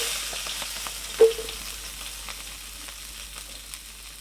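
Green chilies and onion dropped into hot soybean oil give a brief loud burst of sizzling, which settles into a steady, faint frying crackle with no one talking.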